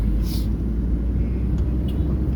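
A car's engine drones steadily in low gear, a constant loud low rumble with wind and road noise that stays level throughout, with no clear gear change.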